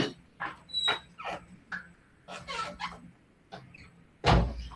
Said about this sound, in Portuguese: Só um minutinho que meu cachorro está chorando aqui